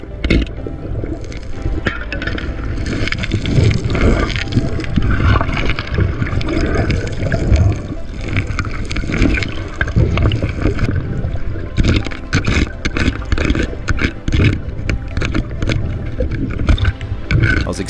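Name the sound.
waterfall pouring into pool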